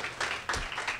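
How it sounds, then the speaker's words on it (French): A live audience claps briefly at a small event, a soft, quiet patter of hands rising in a couple of swells over one second. "On peut les applaudir bien fort"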